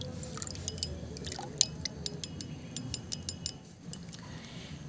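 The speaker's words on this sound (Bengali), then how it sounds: "1 চামচ ক্যাস্টর অয়েল এর ভিতরে আমি মিশিয়ে দিচ্ছি" Castor oil being stirred into water in a small bowl with a spoon, a steady wet swishing with light clinks and drips, close and fairly quiet.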